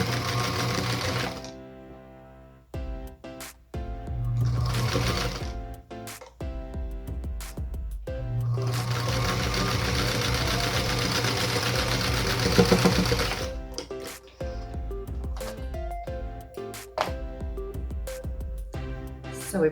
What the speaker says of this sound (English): make sure your seams are pressed together, and then you just sew right along